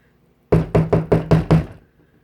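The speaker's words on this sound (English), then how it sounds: "a loud knocking came at the door." Six loud, evenly spaced knocks on a door in a quick steady rhythm, close and alone with no voices, ending abruptly.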